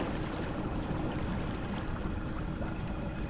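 A Hobie PA kayak fitted with a trolling motor runs at full speed into a headwind, giving a steady, faint wash of water and wind noise with no voices.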